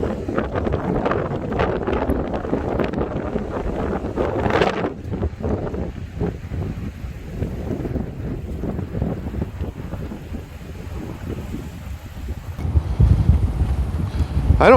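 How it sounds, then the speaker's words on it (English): Wind gusting offshore over open water, buffeting the microphone in a steady low roar with rushing surges throughout, growing heavier toward the end. "so I don't know if you can hear the wind"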